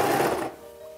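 Sewing machine stitching around bias tape on fabric, a short close burst of running that stops abruptly, leaving a faint hum.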